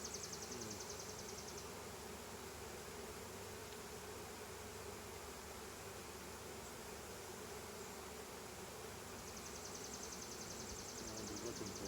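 A steady, close roar of honeybees fills an opened split hive, a thick unbroken buzz with a faint higher whine at the start and end; no speech.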